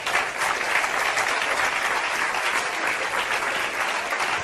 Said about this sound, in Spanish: Un aplauso a Chile que está reinando.